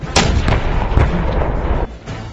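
An artillery unit fires live rounds during a timed field drill, one heavy boom followed by smaller blasts and rumbling echo, loud and close with no talk.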